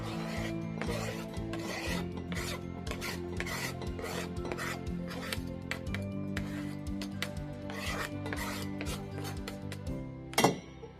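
Lemon zest is grated on a hand grater in a kitchen, a close, brisk series of rasping strokes in an uneven rhythm, ending with a sharper scrape.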